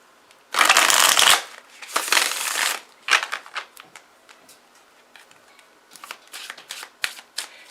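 Tarot cards shuffled by hand for a card pull, with two long loud riffling bursts followed by softer, scattered card taps and flicks at close range.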